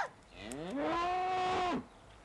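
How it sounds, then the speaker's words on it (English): A single cow in the countryside gives one drawn-out, rising and falling moo, fairly close and loud, with no talking. "What was that? Only a cow."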